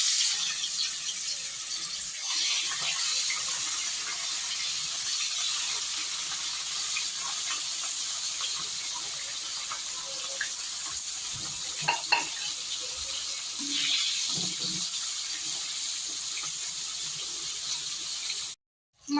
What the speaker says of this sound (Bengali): এখন আমি এর মধ্যে মাছগুলো দিয়ে দেব।